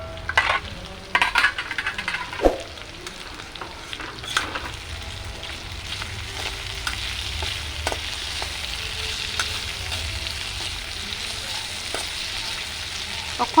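Food for a rustic Assamese village recipe sizzles and fries steadily in a covered pan, with a few clatters and stirs near the start followed by a constant close crackle.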